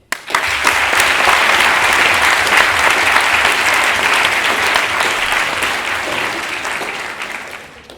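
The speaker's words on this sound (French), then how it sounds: "j'aimerais qu'on applaudisse monsieur Camille Riquier" An audience at a French eloquence contest breaks into loud, full applause that swells quickly, holds strong for several seconds, then gradually tapers off toward the end.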